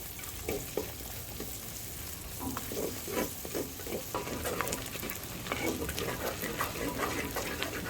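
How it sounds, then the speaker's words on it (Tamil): Onions sautéing in a pan until golden in a village kitchen, giving a steady sizzling fry with repeated scraping stir strokes close by. "நல்லா வெங்காயம் நல்லா பொன்னிறமாக வதங்கி வரைக்கும் நல்லா வதக்கிப்போம்."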